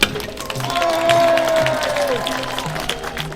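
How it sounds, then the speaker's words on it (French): Audience applause fills a hall, a steady wash of clapping from a crowd, with a voice speaking over it. "Ça mérite des applaudissements."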